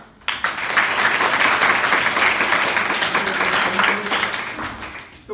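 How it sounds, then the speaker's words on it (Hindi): Schoolchildren at a composite school in Azamgarh clap for their teacher: a close, dense burst of many small hands clapping together for about five seconds, then tapering off quickly. "सर के लिए ताली बजाना।"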